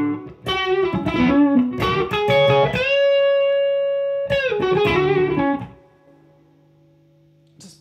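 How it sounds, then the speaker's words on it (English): Electric guitar through a Bloomfield Drive pedal plays a few phrases with held, slightly overdriven notes, loud and close, then fades to near silence with no talk. "the Bloomfield Drive sound that I like"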